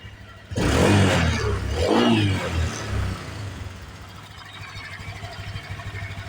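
A Honda Click 125 scooter with a 59mm MTK block and stock exhaust revs hard in two close, loud bursts, then settles back into a quieter idle.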